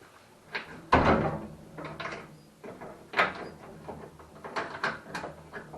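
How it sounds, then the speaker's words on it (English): A house door is unlocked and opened with a loud wooden knock and several rattling clunks and scrapes, close by, with no talking. "Just give me a minute to unlock this door."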